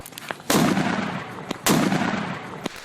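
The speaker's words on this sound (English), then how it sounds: "Not just aerials, but people are popping cannons as well." Illegal fireworks and homemade cannons going off in a Hawaii neighbourhood: two heavy, booming blasts about a second apart, each with a long rumbling decay, plus a few smaller sharp pops, moderately distant.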